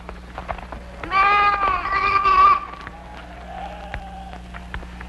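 A single drawn-out bleat rings out for about a second and a half, loud and near, with quieter shuffling and a softer bleating call afterward.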